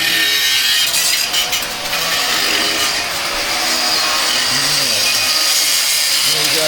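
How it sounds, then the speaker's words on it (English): A grinder working steadily on metal pipe risers in a shop, producing a continuous loud, hissing abrasive whine with slight shifts in pitch and no break across the whole stretch. "We got Scott doing a little grinding."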